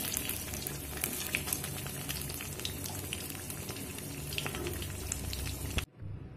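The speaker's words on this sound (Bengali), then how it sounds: "এবার আমি তুলে নেব আর বাকি পটলগুলো একইভাবে ভেজে নেব" Stuffed pointed gourd (potol) fries in a pan with a steady, fairly quiet sizzling hiss and faint stirring ticks, cutting off abruptly near the end.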